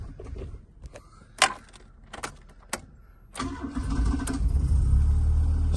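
A 1987 Ford Escort Ghia is cranked over amid a few clicks and clunks, then fires and settles into a steady, fairly loud idle close by.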